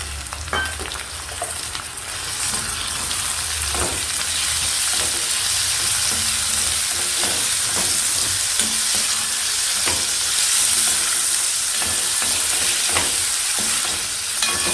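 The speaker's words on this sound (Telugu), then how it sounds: "మనం శుభ్రంగా కడిగి పెట్టుకున్న రొయ్యలు వేసేద్దాం." Prawns frying in a pan with curry leaves and ginger garlic paste, a loud steady sizzle throughout with repeated scraping strokes of a spatula stirring the pan, close up.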